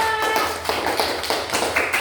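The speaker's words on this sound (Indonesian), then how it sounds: "Mari kita berikan tepuk tangan untuk kelompok 2." Children in a primary school class clap for a class group, a quick run of light, rapid hand claps close by, fairly soft and brief.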